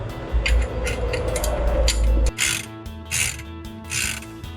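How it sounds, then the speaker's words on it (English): A ratchet wrench loosens the assembly bolts on a Jeep Wrangler JK brake backing plate, rapid clicking bursts close and loud, pausing between strokes. "I just remove the assembly bolts on the back."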